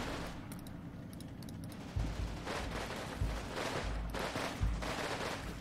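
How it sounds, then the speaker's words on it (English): A mortar artillery barrage in Combat Mission Red Thunder brings a few heavy, low booming impacts at uneven intervals over a constant rumbling backdrop, with some crackle between them, at moderate distance. "this is going to be the turn where the artillery barrage comes down, and that's going to be a ton of mortars"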